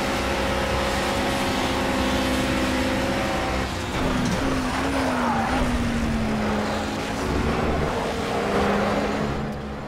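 A GT4 race car in the Project CARS video game sweeps past during a Le Mans 24 Hours career race, its loud engine tone dropping in pitch as it goes by over steady engine drone and track noise.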